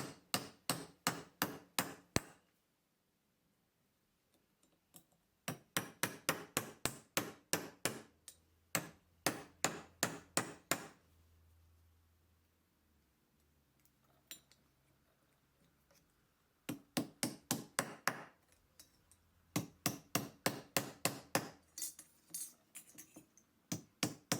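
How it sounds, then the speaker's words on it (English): Bursts of rapid, sharp metallic hammer taps flattening a copper leaf on a bench block, several runs of quick strikes separated by short quiet pauses, close up. "place it on the bench block flat and hammer down, so you're splaying the edges of the leaf out"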